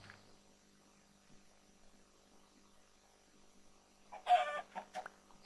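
A chicken gives a brief burst of clucks near the end, after a long quiet stretch with a low electrical hum.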